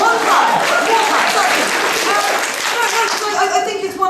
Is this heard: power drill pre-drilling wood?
no